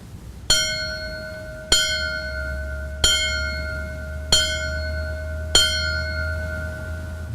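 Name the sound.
memorial bell ringing signal 1-5 for firefighters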